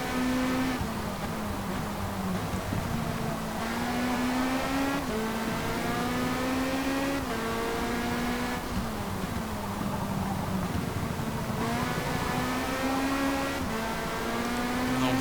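A Lamborghini LMDh race car engine in Forza Motorsport drones steadily at high revs, pitch rising and dipping through gear changes, with a faint tire squeal along the way.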